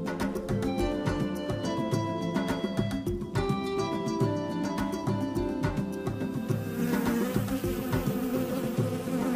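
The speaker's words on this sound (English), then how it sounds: "It appears that a bee is distracting Gerard Giraffe." A bee buzzes steadily and loudly throughout, a continuous droning hum close by with no speech over it.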